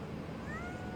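A cat gives a single faint, rising meow over a quiet, hissy outdoor background, brief and not very close.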